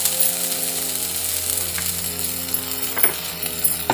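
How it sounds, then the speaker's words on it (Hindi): Peas and spices (green chilli powder, coriander and cumin powder) roasting in a pan for matar paratha filling, a steady close sizzle with a few light clinks of a stirring spoon near the end. "डाल के इसे 1 मिनट तक मसाले में और मटर को भून लेना है।"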